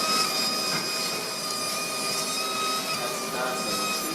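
Surgical drill with a sharp initial bit used in thoracic spine surgery for T8 screws, a steady high-pitched whine with tonal hum running continuously and fairly close.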